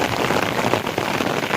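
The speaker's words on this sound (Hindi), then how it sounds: "बारिश हो रही है यहाँ पे बहुत तेज़।" Heavy rain pours steadily on a mountain trek in Ladakh's Sham valley, a dense, continuous hiss of drops beating on surfaces close by, with no voices.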